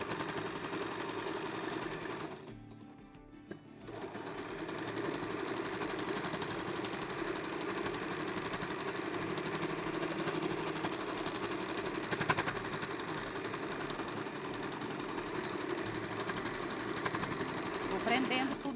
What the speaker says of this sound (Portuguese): Agora você vai fazer um quilting livre. Só que aqui é com calcador de costura reta mesmo